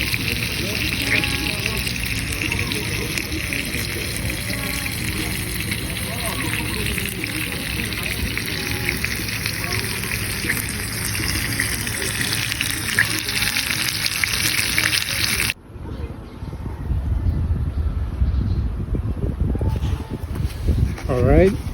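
Pork fries in a pan while dinner is cooked at a campsite, a loud, continuous close sizzle that softens and turns more bubbly partway through.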